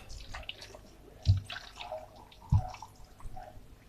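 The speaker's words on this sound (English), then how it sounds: "We're going to add our water to this." Water poured into a blender holding watermelon, pineapple and star fruit: quiet splashing and drips with two sharper plops partway through, close by and without talk.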